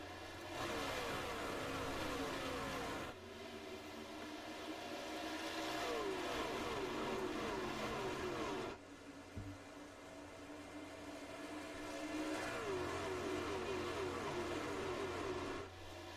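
Sim-racing trucks roar around Nashville Super Speedway under green, a steady loud engine drone with repeated rising whines as the field passes, a sudden dip midway before the pack noise builds back.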